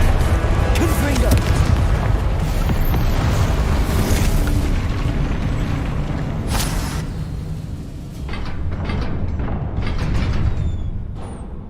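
Confringo explosive spell blasts in Hogwarts Legacy come as sustained, loud, booming rumbles under a dense wash of combat noise, easing slightly before a final swell, with a voice calling out over it.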